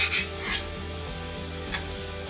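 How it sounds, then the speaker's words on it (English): A steady, hissing sizzle of potatoes frying on a hot griddle, constant and close, with a few brief louder crackles. "they sure are sizzling, which is what I wanted"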